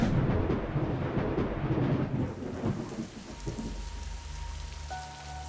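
Heavy monsoon rain pours steadily over a rumble of thunder that rolls through the first half and then fades, leaving dense rainfall with a faint tonal hum near the end.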